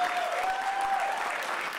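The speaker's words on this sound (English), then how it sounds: "Give him a round of applause for that." A school showcase audience claps in a brief, dense burst of applause that carries evenly throughout, with a faint tone running under it.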